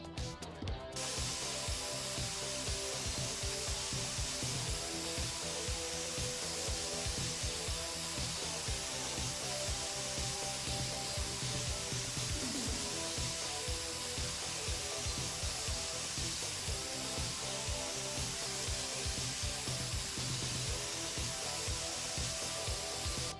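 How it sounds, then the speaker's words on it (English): A spray paint gun in a painting simulator video game hisses steadily and continuously for the whole stretch, a dense broadband spray at even loudness with faint clicking and rumbling game sounds underneath. "Oh, we could spray from here."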